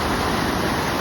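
Merced River rushing through Little Yosemite Valley in Yosemite, a steady, dense broadband roar of flowing water filling the scene from start to finish with no voices.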